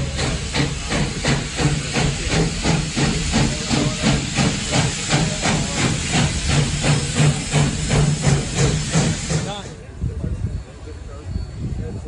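The narrow gauge steam locomotive Slim Princess passes close by with a loud, steady hiss of steam and rhythmic chuffing. The hiss breaks off sharply near the end, leaving quieter rumbling.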